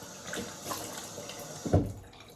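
Tap water runs into a sink while shaving soap is rinsed off, a soft steady stream with a few splashes and one brief louder slosh near the end.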